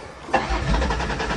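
An old van engine catches after cranking during a spring test start, a sharp start followed by a rough, rumbling idle, close and loud.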